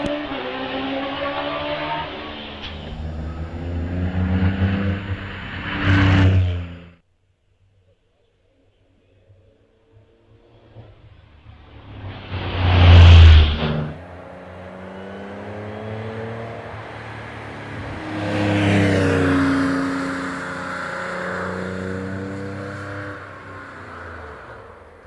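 Porsche racing car shared by Laura Wardle and Jonathan Williamson, running up the Doune hillclimb course in the British Championship; a loud engine rises and fades in two surges, then returns sustained, with announcer talk over it.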